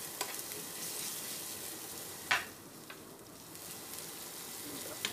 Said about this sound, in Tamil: எண்ணெயில் வதங்கி விடணும்.